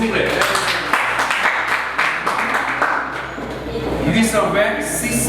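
Audience applause at a children's school competition announcement, scattered clapping running for several seconds beneath a speaking voice amid a noisy hall, swelling slightly near the end.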